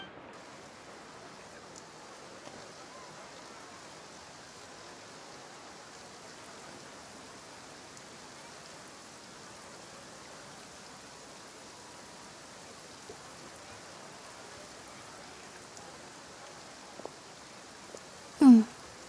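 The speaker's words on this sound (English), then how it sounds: "Looks like rain." Soft steady rain in the Genshin Impact video game, a faint even hiss that runs throughout, with a couple of brief louder knocks near the end.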